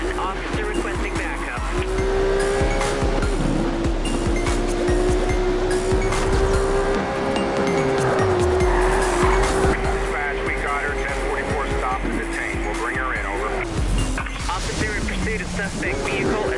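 A video game police pursuit of a racer, with engines roaring and tires squealing continuously under police radio dispatch voices, loud and close throughout.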